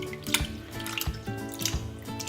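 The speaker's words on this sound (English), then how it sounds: "I'll squeeze out the water and I'll flatten it and I'll lay them on the strainer" Soaked rice noodles squeezed by hand in a kitchen while making Lao khao poon, water dripping and splashing in a few close bursts over a running tap-like background.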